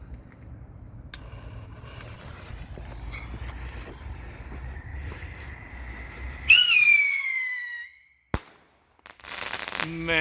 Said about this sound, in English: These are awesome bottle rockets, guys.